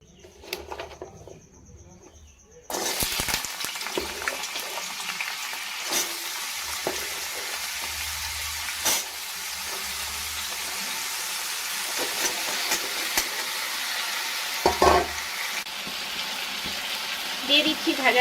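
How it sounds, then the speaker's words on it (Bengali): Cut potatoes dropped into hot oil in a home kitchen burst into a loud, steady sizzle after a quieter opening, crackling continuously with occasional stirring clatter. "তেল গরম হয়ে গেছে, এবার আমি আলুগুলো দিয়ে দিচ্ছি।"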